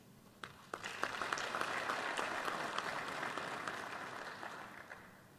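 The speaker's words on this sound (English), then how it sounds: "And we must applaud you and applaud through you ourselves as a country." Applause rises from a conference audience at a military strategic conference, scattered claps first then swelling into sustained even clapping from a moderately distant crowd, with no speech.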